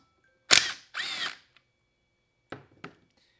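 A power tool spins out 10 mm bolts during a Honda CR125 engine rebuild, with two close, loud whirring bursts followed by two shorter clicks and whirs.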